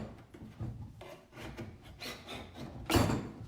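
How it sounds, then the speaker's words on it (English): A putty knife held flat scrapes old, chipping veneer off wood in a series of close, rasping strokes, ending with one louder scrape, with no voices. "I try to keep my putty knife flat so that I don't gouge my wood"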